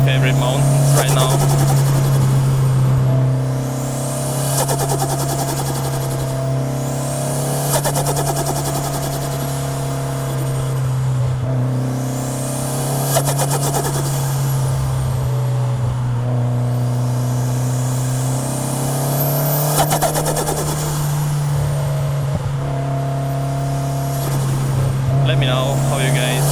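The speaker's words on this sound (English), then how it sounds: "Let me know how you guys like the sound of the car, how it is now." A fully built Mitsubishi Lancer Evo V climbing a mountain road, its engine droning loud and close with repeated rising revs through the gears and a steady low hum throughout, while a person talks over it.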